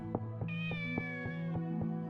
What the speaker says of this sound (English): Kitty's over there.